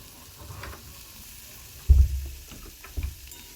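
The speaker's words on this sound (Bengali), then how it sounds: "একটু ঢাকা দিয়ে আলুগুলো ভেজে নিচ্ছি।" Potatoes frying in mustard oil in a kadai, a soft steady sizzle with a few louder stirring scrapes and clunks at the pan, close and without talk.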